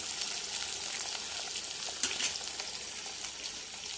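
Bitter gourd pieces deep frying in oil make a steady, fairly quiet bubbling crackle that runs unbroken, with a brief louder flare midway.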